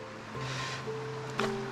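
A mountain creek rushes steadily in a wooded camping and trout-fishing spot, a continuous close broadband wash of flowing water with a faint low hum beneath.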